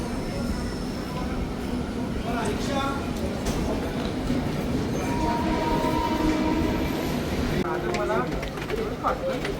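Steady rumbling clatter of a moving train, continuous and close, with people talking over it and occasional bird calls.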